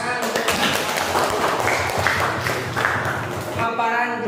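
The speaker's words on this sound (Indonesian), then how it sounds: "beri tepuk tangan" Applause from a classroom audience, a steady spread of clapping hands mixed with voices, holding at a moderate level for several seconds before tapering near the end.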